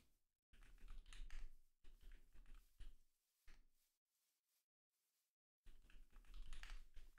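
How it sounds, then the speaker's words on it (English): Rapid typing on a computer keyboard, played over Minecraft Pixelmon gameplay, comes in dense bursts of clicks. A few seconds of near silence break it before a loud stretch of typing starts again. "typing gets difficult"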